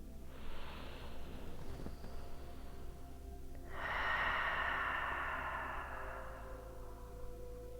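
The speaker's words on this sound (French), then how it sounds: "Dernière respiration ici." A deep, slow breath during a French-language yoga session, soft and airy, with a long exhale that swells in the second half, heard quietly and close with no talk.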